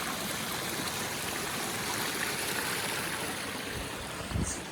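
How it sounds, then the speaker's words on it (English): A small creek flows at a trail crossing, a steady close rushing and babbling of water that fills the whole stretch evenly, with a faint bump near the end. "Another little creek crossing here."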